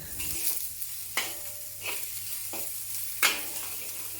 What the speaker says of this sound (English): add the onion. Green chili sections, and continue stir frying for half a minute.